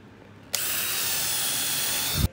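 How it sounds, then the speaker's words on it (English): A power drill bores a pilot hole into the end of a wood board for a platform bed, one steady high whine of about two seconds, close and loud, ending with a brief low thump. "You want to pre-drill when you're working on the ends of the boards."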